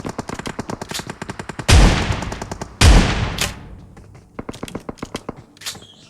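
Video game gunfire: rapid automatic bursts crackle in steady streams, broken by two heavy booming blasts midway, then sparser single shots trail off toward the end, loud and close with no talk over it.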